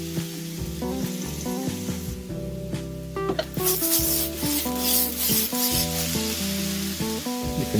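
Vegetables for Sicilian caponata fry in a pan on a stovetop burner. A soft, steady sizzle rises and grows louder beneath prominent background music.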